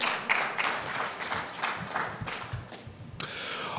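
Applause for the president at the Ghana Institute of Architects AGM: a crowd claps steadily at moderate loudness, thinning slightly toward the end with a sharp knock near the close.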